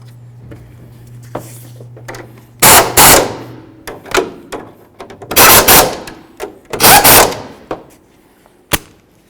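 Power tool running nuts down onto the upper control arm of a 2003-09 Mercedes-Benz E320, several loud broadband bursts of a few seconds each, separated by quieter clicks and handling noises and a low hum early on.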